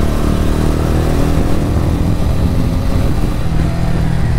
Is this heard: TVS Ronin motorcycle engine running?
yes